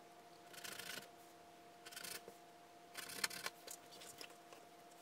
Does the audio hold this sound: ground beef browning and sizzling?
no